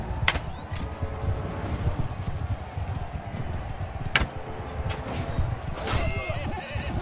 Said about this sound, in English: We gotta start taking out some more of these horses.